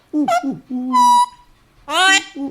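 A parrot imitates an owl with three short, squawky hoot-like calls, close by, separated by brief pauses.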